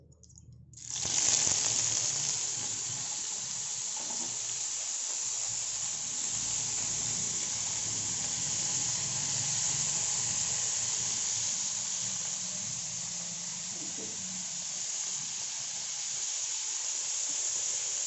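Coconut oil sizzles and hisses steadily in a hot pan while cooking paneer palak, starting with a sharp onset after a brief quiet moment and then holding a loud, continuous, even fry to the end.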